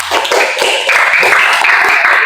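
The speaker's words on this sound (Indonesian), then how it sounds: "tepuk tangan buat kelompok 3" Students in a primary-school Hindu religious education classroom clap for a classmate group, a dense continuous patter of hand claps at close range that holds steady throughout with no pauses.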